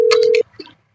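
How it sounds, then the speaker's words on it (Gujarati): A telephone busy tone sounds loud and close as a call goes unanswered: one steady beep about half a second long, then a brief garbled electronic burst before silence. "બાહુબલીને ફોન કરું"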